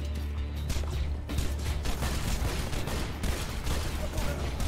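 Video game gunfire in Borderlands 2: loud rapid bursts of shots hammering over each other in a dense, nearly unbroken barrage with a clipped cut near the start.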